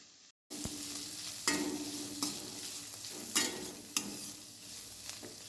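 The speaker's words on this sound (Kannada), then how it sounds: "ಇನ್ನು ಸಣ್ಣ ಉರಿಯಲ್ಲಿ ಫ್ರೈ ಮಾಡಿಕೊಳ್ಳಬೇಕು" A side dish fries on a low flame in a pan, a steady gentle sizzle punctuated by several distinct scraping stirs, close and alone.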